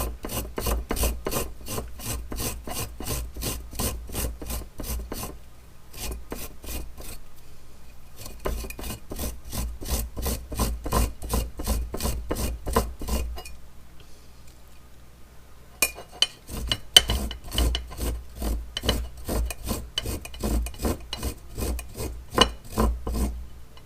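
Fresh, fibrous ginger rasped against a grater in steady rapid strokes, three bursts of rhythmic scraping separated by short pauses, close and clear with no talking.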